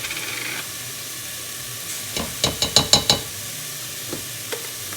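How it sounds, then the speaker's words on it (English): Garlic sizzles in a pot of taco soup base as a spoon gives a quick stir, a run of rapid metallic scrapes over a quiet hiss, then two light taps. "We're just going to give that a quick little stir."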